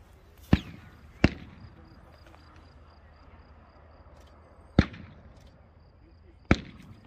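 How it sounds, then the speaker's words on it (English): Rifle shots are fired at a 300 meter target during a live fire exercise at a training area: four sharp, loud reports spaced unevenly with quiet gaps between them and faint outdoor background noise. "Shooting at the 300 meter target."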